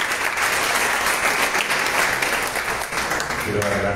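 An audience applauds at a jazz concert in a small venue, steady loud clapping filling the room for several seconds, with a few voices rising near the end.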